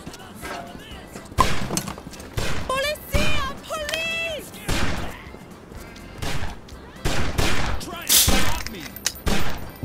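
Gunfire in the video game Postal 3, with bursts of shots and heavy impacts going off in rapid, uneven clusters, mixed with in-game voices, music and combat effects.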